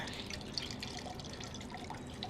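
Liquid from a cooled wagyu chuck roast braise drains through a metal china cap strainer, a soft continuous trickle with fine dripping, quiet and close.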